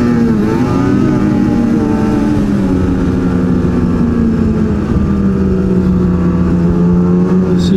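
Snowmobile engine revving up hard and steadily after a restart on a wooded trail, a loud close drone with a pitch that climbs, then holds and dips slightly, no voices.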